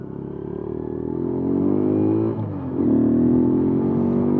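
A rebuilt Kawasaki Z125 Pro motorcycle revs up as it rides past, its small engine's drone rising steadily, dipping briefly at a shift or throttle lift, then pulling strong again at close range.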